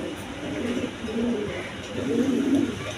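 Soft, low pigeon coos repeat in a few drawn-out phrases, fairly quiet and close, over a faint background hiss.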